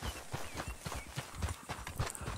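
A horse's hooves in the video game Red Dead Redemption 2, a quick, regular clip-clop of a trotting gait that is moderately close and runs steadily throughout.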